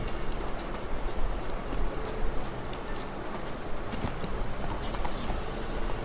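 Steady clip-clop of horse hooves from The Witcher 3: Wild Hunt video game, a continuous rhythmic trotting close by and loud, with no talk over it.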